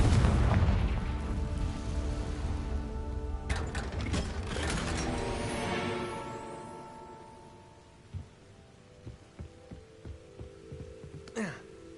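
Confringo fire spell blasting in Hogwarts Legacy, a loud booming burst with a long rumbling, crackling decay that fades over several seconds, followed by scattered smaller clicks and pops and a thin rising tone near the end.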